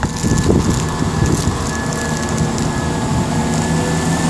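A Class 170 Turbostar diesel unit departing Tamworth station on a cross-country service, a loud steady engine rumble with a constant whine, close and continuous throughout.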